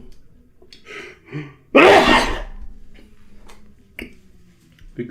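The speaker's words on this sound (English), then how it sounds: "Big sneezes." A single big human sneeze bursts out loud and close. A few quieter breaths and small clicks in a quiet room come before and after it.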